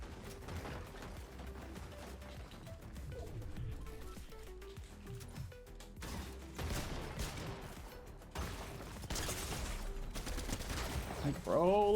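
Fortnite gameplay with bursts of gunfire in a busy, dense game mix, shots and mechanical game sounds layered over a constant background, with voices also present.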